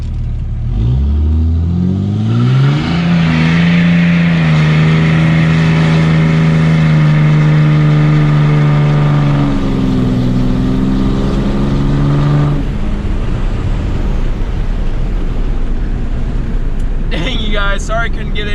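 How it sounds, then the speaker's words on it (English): Can-Am X3 side-by-side engine revving hard and holding a high steady drone that climbs and falls in pitch as the tires spin, loud and close with rough tearing noise and a voice talking over it. "see if we can go do a burnout"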